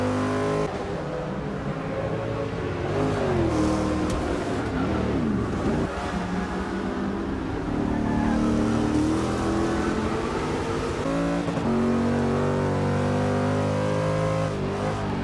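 Corvette C7R GTE race car from Forza Motorsport 6 lapping Mount Panorama Bathurst, its engine loud and continuous, revving up and down through gear shifts and braking for the whole stretch.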